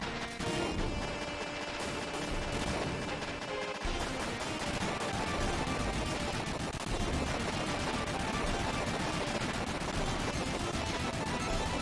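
Continuous retro gunfire from Front Mission: Gun Hazard, a dense, loud barrage of shots and impacts firing at an enemy, sustained without pause and mixed with game music.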